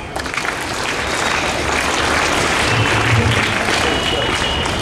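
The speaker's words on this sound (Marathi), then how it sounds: "तुम्ही जोरदार टाळ्या वाजवा तुमच्या सगळ्यांसाठी." Audience at a school Marathi language day event clapping, a dense, sustained burst of applause from a crowd filling the hall.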